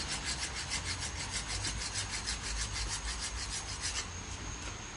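A file rasps across a wood carving in steady, even back-and-forth strokes, about two per second, close and moderately quiet, with nobody talking.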